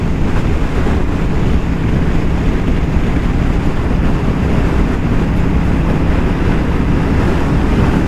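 Steady loud wind roar buffeting the microphone while riding a Royal Enfield Super Meteor 650 motorcycle, a continuous broadband rush with no letup and no voices.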